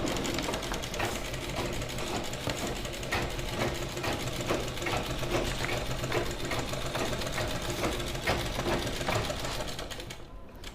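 A sewing machine stitches salwar fabric in a fast, even run of mechanical needle clatter, close and steady for most of the stretch before slowing and stopping near the end.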